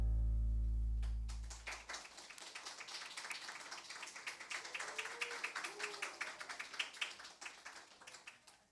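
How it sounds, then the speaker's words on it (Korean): A church congregation applauds during a worship service, a dense burst of clapping that starts after a brief low rumble and carries on steadily with many overlapping hand claps at moderate loudness. "충격적이라서 박수를 많이 치시는 것 같습니다"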